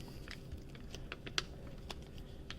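Heat transfer vinyl peeled off its backing during weeding, heard as faint scattered crackles and small ticks with a slight pull of resistance, quiet and close, no talking.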